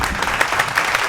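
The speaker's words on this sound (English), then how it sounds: "could I get a round of applause for my friend Reggie?" A short burst of clapping greets a podcast guest, a few distinct close claps over about a second, fairly loud and uneven.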